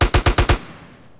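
Gunship machine gun in GTA: San Andreas firing a short burst of five heavy, evenly spaced shots, loud and close, followed by a fading echo.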